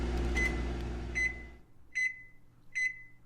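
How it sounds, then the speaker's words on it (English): A microwave oven timer beeps four times in a slow, even rhythm, each a clear sustained tone with a short tail. A low hum runs under the first beeps and then stops. "I'm saved from having to respond to that as the timer goes off"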